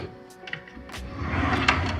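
A desk drawer in a home nail studio, holding brushes, tools, drill bits and cuticle oils, slides open with a short rattling scrape and a few clunks of contents shifting, close by, with no talk.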